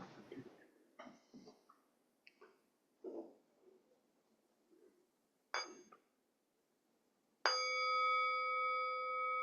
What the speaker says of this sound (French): je vais juste inviter un son de cloche et on va commencer